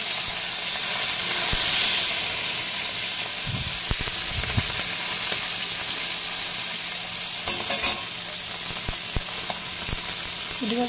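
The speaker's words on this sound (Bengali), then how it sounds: "পুঁটি মাছগুলো হালকা ভেজে নেব, বেশি ভাজবো না, হালকা ভেজে নেব।" Small puti fish (pool barb) frying lightly in hot oil in a pan, with a steady loud sizzle and hiss and occasional stirring clicks, close up and without talk.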